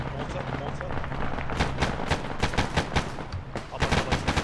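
Rapid gunfire crackles in the military shooter ArmA, with bursts of automatic fire and single shots popping in an irregular rhythm, fairly loud and dense throughout.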